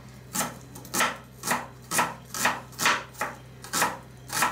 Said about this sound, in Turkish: Soğanı da güzelce doğrayalım.